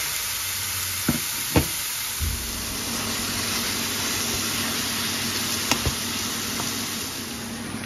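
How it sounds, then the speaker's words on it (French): Spiced meat sizzles steadily in a hot pan with no oil, a constant dense frying hiss throughout with a few sharp knocks and clinks of a utensil against the pan. "Ma poêle est chaude. Je mets la viande."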